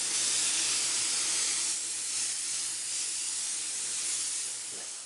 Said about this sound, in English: I'm going to spray this one with my touch-up gun.